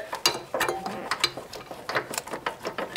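Impact gun loosening 19 mm bolts on a Volkswagen Bus front disc brake, a series of sharp rattling bursts close by.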